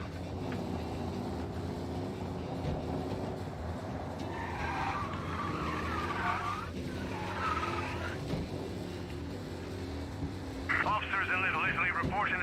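Tires squeal and skid in a night-time police car chase through city streets in the game Mafia: Definitive Edition, with engine drone throughout, several wavering screeches and a sharper burst at the end, all under radio chatter.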